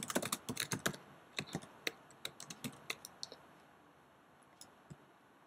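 Typing on a computer keyboard while writing Python code: a quick burst of close, crisp key clicks that slows into scattered taps and fades toward the end, with no talking.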